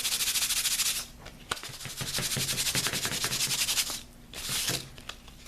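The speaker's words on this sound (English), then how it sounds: "I'm going to give her a bit of a new hairdo using some sandpaper." Sandpaper rasps against a doll's hair to rough it up, a close, continuous scratchy rubbing broken by brief pauses, with no voices.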